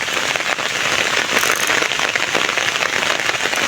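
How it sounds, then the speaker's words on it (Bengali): Heavy rain pours onto flooded farm fields at the northern edge of a village after three days of downpour. The hiss of the drops is loud, steady and unbroken, with no voices. "আজ তিন দিন ধরে প্রচণ্ড বৃষ্টি পড়ছে দেখেন আমাদের ক্ষেত কি হয়েছে"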